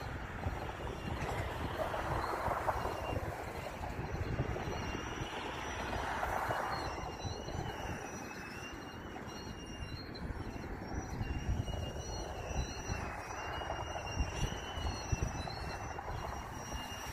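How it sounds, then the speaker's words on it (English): An eastbound Union Pacific maintenance train rolls by on a cold September day, a continuous heavy rumble of wheels and cars with faint high wheel squeals, heard from a moderate distance and without talk. "okay, we got a eastbound, maybe a maintenance train."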